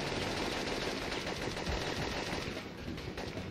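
Rapid continuous gunfire in the OPM video game, dense automatic bursts filling the whole stretch at steady loudness with no talking.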